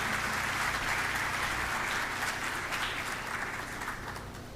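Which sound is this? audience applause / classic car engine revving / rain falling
audience applause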